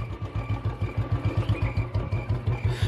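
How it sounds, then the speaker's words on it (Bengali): A motorcycle rolls in through a house's main gate, its engine idling with a steady, rapid low thumping pulse, close and even throughout. "ঠিক সেই সময় বাড়ির মেন গেট ঠেলে একটা বাইক ঢোকার শব্দ হলো।"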